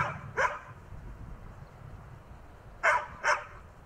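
An Akita Inu barks nearby, one short bark followed after a pause by two quick barks in succession.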